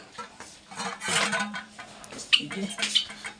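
A cup clatters among dishes in a home kitchen, nearly tipping over, giving a few sharp ceramic knocks and rattles at close range between quieter handling sounds.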